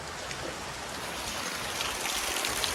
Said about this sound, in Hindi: बहुत ज्यादा बारिश हो संगवारी हो।